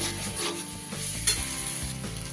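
Potatoes and spices being stirred in a hot pan for a mushroom curry, a steady sizzle and fry under scraping stirring strokes, close and continuous, no talking.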